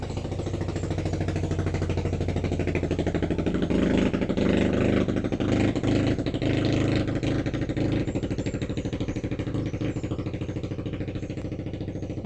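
A motorcycle engine runs nearby with a steady mid-pitched drone that swells slightly in the middle as it goes past, then holds on at an even level.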